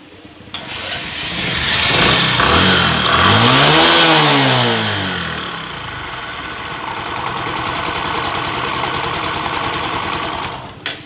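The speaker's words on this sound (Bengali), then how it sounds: "তো আমি এখন ইঞ্জিনের সাউন্ডটা শোনাই, দেখুন।" A Bajaj Discover 125 motorcycle engine runs after a repair to fix low compression and chain noise, close and loud, a steady idle that swells with a brief rev before settling back.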